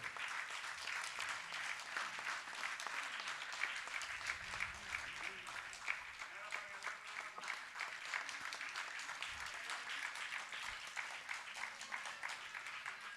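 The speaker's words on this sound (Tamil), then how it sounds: "பலமான கரவோசை எழுப்பி அவளுக்கு சான்றை கொடுத்து நாம் விடைபெற காத்திருக்கிறோம்." Audience applause at an award ceremony honouring a young woman: steady, dense clapping from a crowd that carries on for the whole stretch, broad and fairly even in loudness, with a few faint low thumps beneath.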